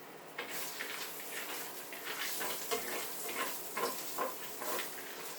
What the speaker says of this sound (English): And now, into the pan goes your cashew nuts